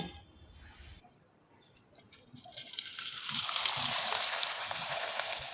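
Rice flour pitha frying in hot oil, a soft bubbling sizzle that builds louder midway and then holds steady.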